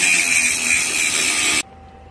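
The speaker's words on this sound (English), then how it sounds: "So, we're gonna grind this smooth again." An angle grinder smoothing weld filler on a metal trailer, a loud continuous high whine that cuts off abruptly near the end.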